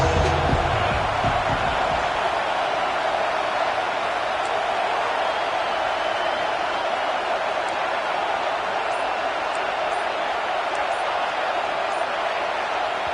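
Stadium crowd noise in the NCAA 26 college football video game, a dense, steady roar of a large crowd filling the whole stretch, loud and continuous without letup.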